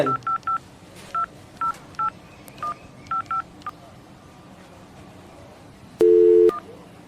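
Telephone keypad tones beep in quick clusters of short pitched blips, then a longer, louder tone sounds near the end.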